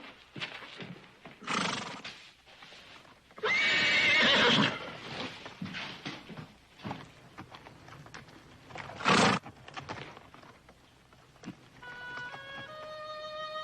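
A horse in an old western TV series whinnies loudly in bursts while hooves clip-clop steadily nearby, ending with a few sustained musical tones.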